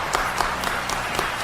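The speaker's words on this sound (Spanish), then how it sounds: "Aplausos para los señores" Applause in a Spanish-language TV studio, a moderate continuous patter of several people clapping close by with a few sharper claps standing out, no talk over it.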